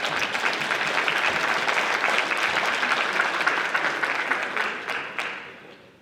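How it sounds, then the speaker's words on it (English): An audience at a high school basketball awards ceremony gives sustained, dense applause for several seconds before it tapers off and fades at the end. "Let's clap it up again for the Tigers"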